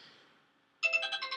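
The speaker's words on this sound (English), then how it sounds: "That's my phone." A mobile phone ringtone bursts in after a near-silent moment, a bright repeating electronic melody ringing loudly and close by.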